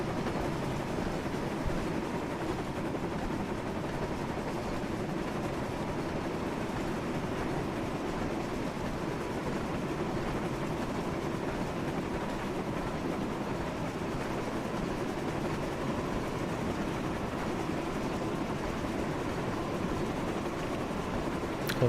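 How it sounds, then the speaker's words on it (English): A steam engine hauling six coaches in a Thomas the Tank Engine train video game, heard as a steady, continuous rumble and rolling rail noise at an even level throughout, with no talking. "Got 6 coach train on the back, so I feel like Gordon's doing most of the work here."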